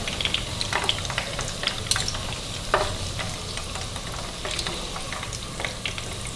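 Chicken doughnuts frying in a pan of hot oil give a steady, dense sizzle, broken by occasional sharper crackles and pops, with no talking.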